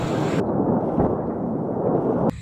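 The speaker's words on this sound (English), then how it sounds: "this massive explosion was seen at a Ukrainian airbase near Kharkiv, and ammunition depot apparently hit" A massive explosion at a Ukrainian airbase near Kharkiv after an ammunition depot was hit, heard as a loud, sustained rumbling roar with a brief blast peak, cut off abruptly near the end.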